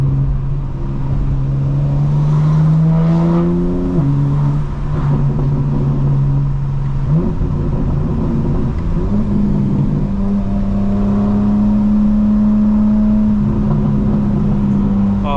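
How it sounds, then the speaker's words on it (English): A 2025 BMW M4's engine drones steadily from inside the cabin, its exhaust note rising and shifting pitch as it shifts and accelerates, continuous and fairly loud. "And the added plus is you get to hear the exhaust a little bit better"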